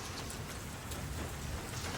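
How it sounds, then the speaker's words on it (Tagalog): Heavy, non-stop rain pours in Region 2 of the Philippines as a dense, unbroken hiss of drops hitting surfaces. It is loud and close, with no pauses and no voices. "So, non-stop yung ulan guys dito sa Region"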